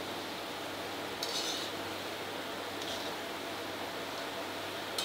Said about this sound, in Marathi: हे असे हलवत राहायचे शंकरपाळे, म्हणजे एकाच साईडला लाल होणार नाही